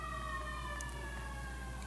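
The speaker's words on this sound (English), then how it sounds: "Sirens are blaring. They are loud. I mean, I hear them." Emergency vehicle sirens wailing outside, steady sliding tones heard from a distance over a constant low hum, with no talking during it.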